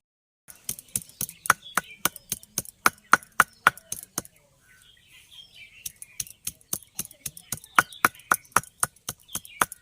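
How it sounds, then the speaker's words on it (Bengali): Coriander leaves and green chillies being crushed, a series of sharp, evenly paced pounding knocks, close and loud, with a brief pause partway before the rhythmic strikes resume. "কিছু ধনে পাতা লঙ্কা থেতো করে নেবো কাঁচা লঙ্কা"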